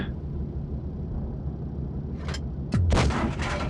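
A Jagdtiger tank gun firing in a video game, one loud booming shot with a sharp crack and low rumble after a lower engine drone and a faint earlier burst.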